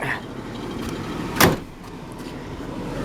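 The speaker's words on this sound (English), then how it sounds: "Close the hood on it." A Honda Civic's hood slams shut in a single sharp, loud thud, with quiet outdoor background before and after.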